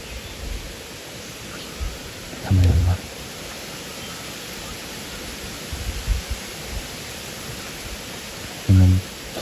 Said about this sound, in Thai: คือฝนฟ้าแรงมากเลย